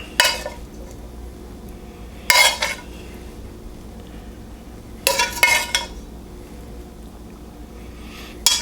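A spoon scrapes and clinks against a casserole dish while spreading a sausage, pepper and onion breakfast mixture with tater tots, making three or four short, fairly close scraping bursts separated by quiet pauses.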